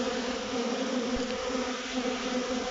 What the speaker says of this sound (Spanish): nosotros criamos abejas meliponas o abejas sin aguijón